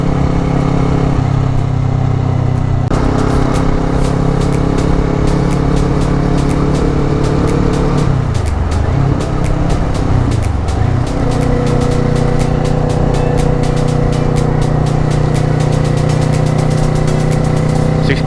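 A Kawasaki Ninja 400 motorcycle cruises on a highway in sixth gear, its engine droning loud and steady with a strong low hum, wind rush and brief dips in pitch, no speech.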